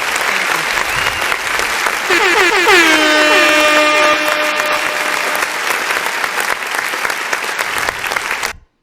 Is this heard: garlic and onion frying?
no